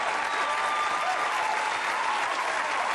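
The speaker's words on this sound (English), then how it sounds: "And the crowd responds to that" Olympic stadium crowd at the 1984 Los Angeles Games reacting to a long jump, a steady wash of cheering and applause, distant and continuous for the whole moment.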